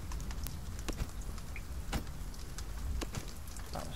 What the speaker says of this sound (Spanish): El sonido de la lluvia está muy currado también.